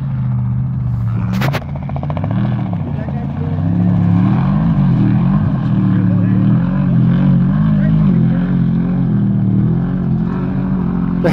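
A helicopter drones steadily overhead with a loud, constant rotor and engine rumble at a desert off-road race, the Mint 400, with a brief sharp clatter early on.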